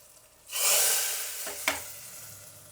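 Curry leaves and asafoetida hit hot oil for sambar with a sudden loud hissing sizzle that slowly fades, close up, with a small clink partway through.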